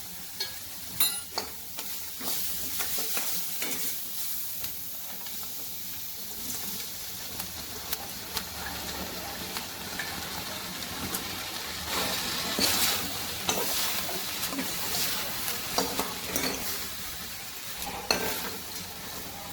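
Corn stir-fried in a pan for crispy corn, with continuous sizzling and frying plus repeated scraping and stirring strokes, close and clear, with no talking.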